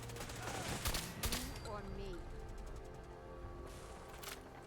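Pipe pistols and other guns fire in the Fallout 4 video game, a busy stretch of repeated shots and rapid bursts over ambient game sound, with no clear talk.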